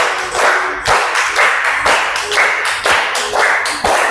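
A group of people clap along to a children's song in rhythmic bursts, loud and close, with a clap roughly every half second over background music.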